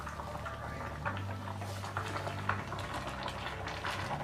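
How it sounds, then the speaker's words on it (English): Water bubbles at a steady rolling boil in a pot for spaghetti, a close, continuous seething patter with no voices. "Next, water is boiling."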